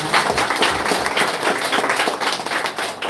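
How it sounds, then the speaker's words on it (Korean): Sustained, dense applause from a ceremony audience at the opening of the Daegu-Gyeongbuk new airport promotion hall, loud and steady throughout with many hands clapping at once. "다시 한 번 더 큰 박수 부탁드리겠습니다"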